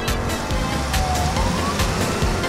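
An ambulance siren wails over busy traffic, its tone rising and falling steadily beneath road noise and passing engines.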